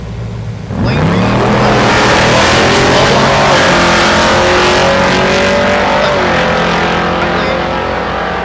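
A naturally aspirated big block drag racing car at a dragstrip launches and accelerates hard, its loud, rising engine roar sweeping up in pitch and holding at full power for several seconds, with no talk over it.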